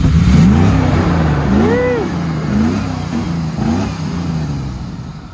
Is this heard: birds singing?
no